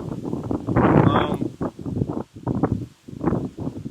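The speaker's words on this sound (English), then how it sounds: "Sorry about the wind. It's very windy." Wind blows hard into the microphone in rough, rumbling gusts that rise and drop unevenly, loud and close, outdoors in Victoria, Australia.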